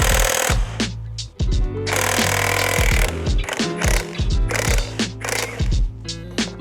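A 1.5 inch impact wrench hammers loudly at a transmission fastener held by a locking tool during a 2001 transmission disassembly, with repeated rapid ratcheting bursts broken by short pauses.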